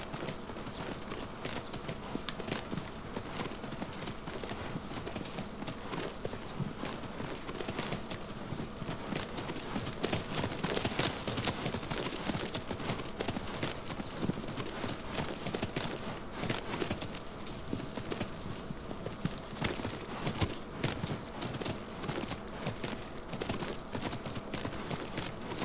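A horse's hooves gallop across rough ground in Shadow of the Colossus, a fast, steady, dense clip-clop that runs without a break and stays loud throughout.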